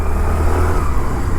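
A Honda Activa 110 scooter rides along a crowded bypass road, its engine droning steadily and loudly up close with constant road and wind rumble and no breaks.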